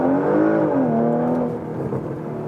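A 2022 Porsche Macan GTS facelift SUV, 440 horsepower, accelerates along winding uphill corners, its engine note rising and falling steadily and loud throughout, no talking over it.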